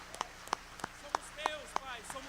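A congregation at a worship service claps in sparse, uneven beats, about eight distinct claps over two seconds, fairly faint and without a full roar of applause.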